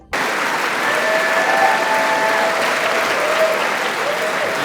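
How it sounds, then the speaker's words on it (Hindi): Members of parliament applaud the entry of Israeli Prime Minister Netanyahu, with loud clapping from a large chamber that bursts in and carries on steadily. Faint voices drift beneath it. "सांसदों ने उनकी एंट्री पर कई मिनट तक तालियां बजाई।"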